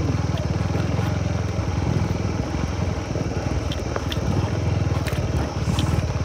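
A motorcycle rides a rough off-road track, its engine throbbing loudly and continuously up close in a rapid pulsing rhythm, with occasional sharp knocks and rattles from the rough ground.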